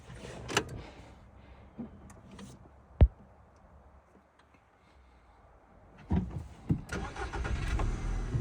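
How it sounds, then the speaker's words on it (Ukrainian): A 2007 Volkswagen Golf Cross with a 1.6 MPI engine, heard through a sharp click and a short starting burst, then a quiet stretch before the engine runs with rougher noise toward the end. "Автомобіль заводиться з полтичка, як кажуть. Рівненько працює"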